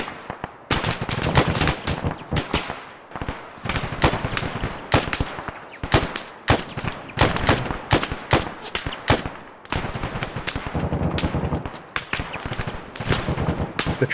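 Video game machine gun fire from an assault on a coastal stronghold, loud and close, with long rapid bursts and separate shots rattling almost continuously and only a few brief pauses.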